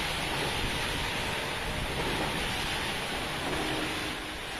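Heavy rain driven by strong wind sweeping across Arjosari bus terminal in Malang, a dense continuous roar of rainfall and gusts that stays loud and unbroken.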